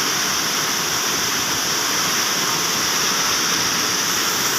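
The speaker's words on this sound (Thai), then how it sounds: "น้ำก็ยังตกคือเก่าอยู่" Heavy rain pours down with flowing water in a rural outdoor setting in Laos, a dense, steady broadband roar, close and constant throughout with no talk.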